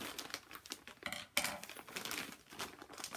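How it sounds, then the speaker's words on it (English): Plastic package bag from a fabric and pattern haul rustling and crinkling close by, with an uneven stream of crackles and one sharper crinkle partway through, no talking. "If you hear the rustling of the bag, sorry."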